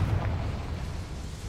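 A Confringo spell explodes in Hogwarts Legacy as a deep, rumbling blast with heavy low-end boom, brief and fading slightly over a second and a half.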